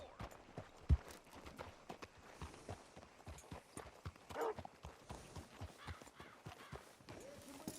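A horse walks with rhythmic hoof clops in the game Red Dead Redemption 2, steady close footfalls over a faint ambient bed, with a brief louder thump early on.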